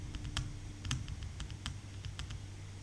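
Soft computer keyboard typing, a few scattered key clicks over a steady background hiss, faint and brief with no talking.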